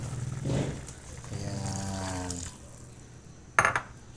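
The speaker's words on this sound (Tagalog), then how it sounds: "dagdagan natin yung tubig konti" Water pours steadily into a cooking pot of boiled pork for about a second, then stops, followed by a brief clank of metal.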